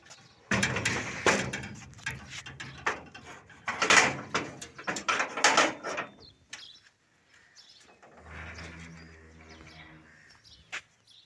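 The metal main gate of a village house is opened on a sunny day. Loud, close clanks and rattling scrapes come in several bursts, then a quieter, lower rumble follows after a short pause.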